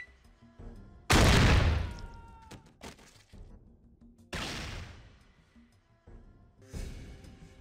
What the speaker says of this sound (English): We continue shooting them center of mass.